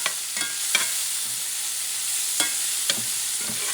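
About a tablespoon of oil sizzles in a frying pan, a continuous hiss broken by several sharp clicks and taps of stirring.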